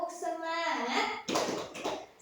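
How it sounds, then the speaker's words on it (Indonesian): Children in a classroom chant and then break into a few sharp group claps for the "tepuk semangat" clapping routine, short bursts close by and moderately loud after the chanted voices. "Kita punya tepuk semangat."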